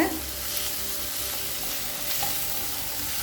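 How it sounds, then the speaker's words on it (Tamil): Chili powder masala sizzles steadily in a pan while being sautéed for Tamil-style egg poriyal, a continuous close frying hiss with soft stirring scrapes and no talking. "மிளகாத்தூள் வாசனை போக 1 நிமிஷம் வரைக்கும் நல்லா வதக்கியாச்சுங்க."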